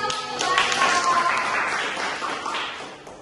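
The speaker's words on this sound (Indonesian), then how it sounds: "Tepuk tangannya dong." A burst of scattered clapping from a small group in a classroom, fairly close, lasting a few seconds and tapering off, with faint voices mixed in.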